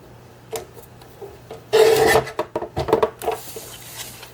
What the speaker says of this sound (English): You'll take it to your paper trimmer.